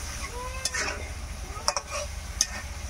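Fish braised with spices in a pan over a village kitchen fire, with a soft sizzle under several sharp stirring clinks of a utensil against the pan.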